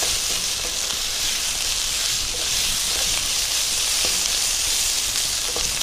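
Tomatoes fry in a pan for a Tamil coconut-milk curry, a continuous bright sizzle and hiss with faint stirring scrapes, close and steady with no voices.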